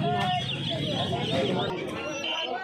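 Turkey hens and other fowl cluck and call among a crowd at the Uluberia hen market, a dense, continuous din of bird noise mixed with close, steady human talk.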